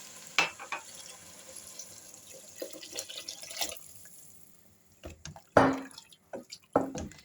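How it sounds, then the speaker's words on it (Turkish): Water is poured into a pot of Turkish dövme soup, giving splashes, drips and gurgling bursts that come and go close by in a quiet kitchen. "iyice karıştırdıktan sonra 8 su bardağı suyunu ekliyorum."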